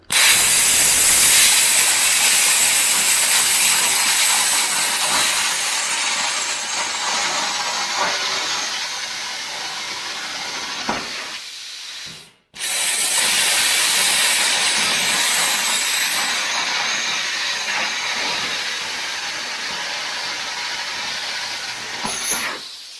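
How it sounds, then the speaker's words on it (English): A plasma cutter slices through steel along a chalk line, giving a loud, close, steady hissing roar that runs for about eleven seconds, cuts out briefly, then resumes just as strong for the rest of the clip. "this is a plasma cutter. It's a lot cleaner than a torch."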